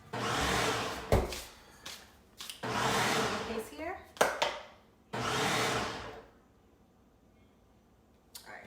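A food processor chops beef patty ingredients in loud, steady pulsed bursts of about a second each with short pauses between them, finishing with a longer burst before everything falls quiet.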